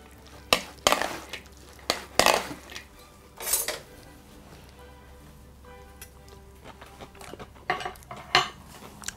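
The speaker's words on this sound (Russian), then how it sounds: "Перемешиваем салат из кабачков" Utensils clatter and scrape against a bowl while zucchini salad is stirred, with irregular loud clinks separated by quieter mixing.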